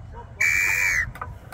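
A whistle is blown to start a ball-rolling challenge game at a community event in Sorocaba, Brazil. It gives one sustained, piercing blast of about half a second, close and loud over faint crowd noise.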